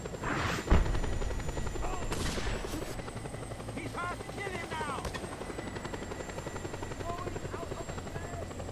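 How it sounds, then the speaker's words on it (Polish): A helicopter chases the player in the video game Just Cause 2, its rotor thumping in a loud, constant drone with bursts of gunfire and game effects on top. "Goni nas helikopter"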